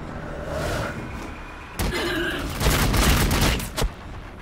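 Video game gunfire in Warhammer 40k Battlesector crackles in bursts over a rumbling mechanical background, with sharp shots punctuating a noisy, busy soundscape.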